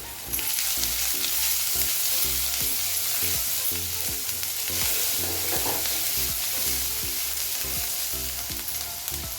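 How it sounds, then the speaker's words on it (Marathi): Ginger, garlic and cumin paste with green chillies sautés in hot oil, a close, steady sizzle broken by regular rhythmic spatula strokes, with no one speaking. "यामध्ये घालायचे आलं लसूण आणि जिऱ्याची पेस्ट हिरवी मिरची पण घातलेली आहे ते परतून घेऊया"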